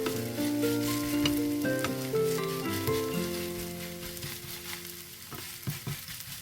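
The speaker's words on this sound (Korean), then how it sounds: "반죽이 짙은 녹색빛을 띠고 투명하게 익으면 뒤집어주고 뒤집개로 꾹꾹 눌러줍니다." Mugwort pancake batter sizzles steadily in an oiled pan while a spatula presses down on it, the frying loud and close, then easing slightly, with a few soft scrapes and taps near the end.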